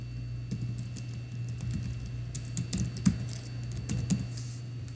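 Computer keyboard keys tapped while entering a domain name, an irregular run of close, crisp clicks in short bursts, with no talking.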